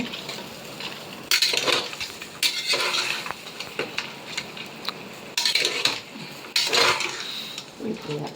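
Goat head curry fries in a pan while a metal spoon stirs it, scraping and clinking against the pan in repeated bursts over a soft sizzle, close and fairly loud.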